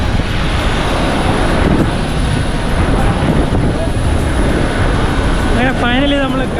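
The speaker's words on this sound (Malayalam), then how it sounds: "അങ്ങനെ സുരക്ഷിതമായി നമ്മുടെ ഫ്ലൈറ്റ് ബാംഗ്ലൂർ എയർപോർട്ടിൽ ലാൻഡ് ചെയ്തിരിക്കുകയാണ്" An airplane's engines roar steadily inside the cabin while taxiing after landing at Bangalore airport, a loud continuous hum, with voices briefly audible near the end.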